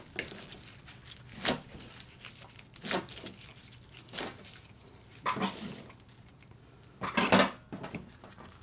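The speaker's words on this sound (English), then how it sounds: "we're gonna chop up the beet greens that came with the beets and put that in with it" Beet greens chopped into big chunks with a knife on a cutting board, five or six spaced, crisp thuds and crunches over a quiet kitchen background.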